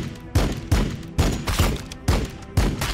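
Gunfire in the turn-based strategy game Warhammer 40k Battlesector, a rapid series of about eight loud, punchy shots in a steady rhythm, each with a short echoing tail, and no talking.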